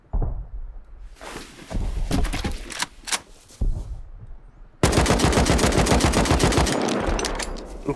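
Gunfire in the survival game Rust during a solo ship raid: scattered single shots and short bursts first, then a long, loud, fast automatic burst at close range that runs to the end with no talk over it.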